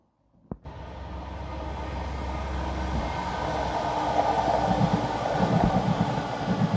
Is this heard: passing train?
yes